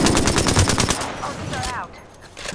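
Rapid bursts of automatic gunfire in the battle royale game Apex Legends, a dense rattling string of shots for about a second, followed by quieter game effects and a short voice.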